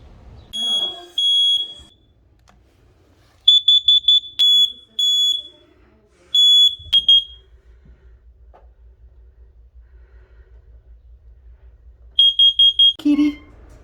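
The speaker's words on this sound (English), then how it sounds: "I just finished up testing the smoke alarm and carbon monoxide detectors." A smoke alarm being tested gives bursts of shrill, piercing beeps in short rapid groups, loud and close, separated by pauses, with a low hum running underneath in the second half.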